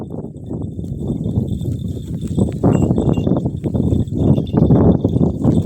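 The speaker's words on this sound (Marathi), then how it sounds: "बघा मंडळी कशा शेळ्या येतात आपल्या पळत वापस" A herd of goats runs back along a path. Their hooves clatter in a dense, continuous patter that is close and loud and grows busier toward the end, with no talking.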